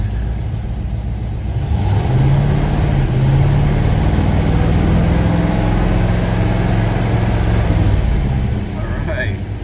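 A V8 Ford Falcon with a transmission still needing work pulls away after being shifted into drive, its engine note rising in a sustained low rumble that swells and then eases off near the end, close and loud.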